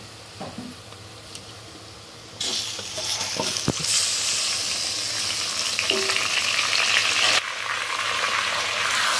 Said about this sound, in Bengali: এখন আমি যে চিকেনটা মশলা মেখে রেখেছিলাম এর মধ্যে দিয়ে দিচ্ছি